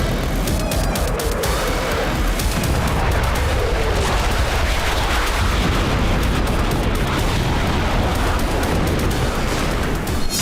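Made-in-India Arjun tanks and artillery guns of the Indian Army fire in a dense, unbroken barrage of loud blasts and sharp cracks. The firing is heavy and continuous, with no speech.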